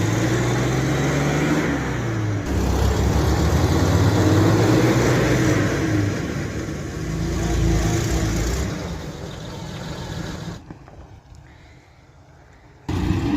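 A 4x4 jeep stuck on a steep mountain track in Saudi Arabia, its engine revving and straining loudly in rising and falling surges, then dropping away near the end.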